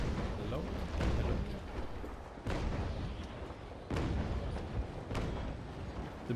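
Naval guns on warships in a video game fire heavy booming rounds at a slow, regular pace, each shot a loud close blast with a lingering rumble, and a voice talks over them.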